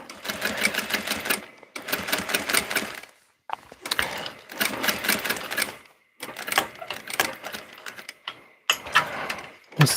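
A sewing machine stitches in place in a rapid, loud mechanical rattle, coming in five or six close bursts of a second or two each, separated by short silent pauses.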